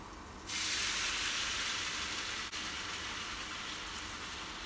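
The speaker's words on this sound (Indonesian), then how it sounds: "Bumbu yang tadi dihaluskan dengan Mitoshiba CH200 ditumis." Ground spice paste sautéing in about two tablespoons of cooking oil inside a rice cooker, a steady loud sizzling hiss starting abruptly and continuing throughout.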